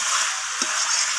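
Chicken is being stir-fried with garlic paste in a pan for a green pea chicken curry. A brief, close, bright hiss of sizzling is heard with one soft scrape of stirring partway through.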